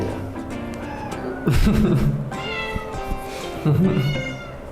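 A cat meows repeatedly while being moved to a new house, several loud, drawn-out complaining cries close by, with a person talking softly between them.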